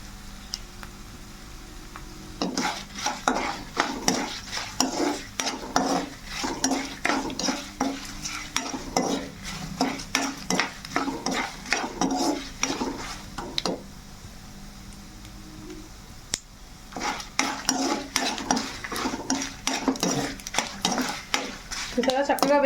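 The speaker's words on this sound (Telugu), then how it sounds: "తాలింపు అనేది బాగా వేగింది కదా ఇప్పుడు పచ్చడి వేసేసుకుందాం" Tempering spices sizzle in a pan for gongura chutney, stirred with a ladle in a rapid series of scraping, clinking strokes over a steady fry, close by, pausing briefly midway before the stirring resumes.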